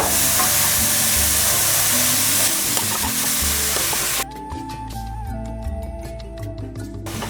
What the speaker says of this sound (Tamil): இது நல்லா வதங்கணுங்க. இந்த நெய்லேயே வதங்கும், கலர் மாறுங்க.